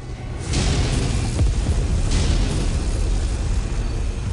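A destroyed target explodes in the MechWarrior 5 video game with a loud, close boom that rolls into a sustained rumbling roar, with a second swell of debris noise midway; no speech over it.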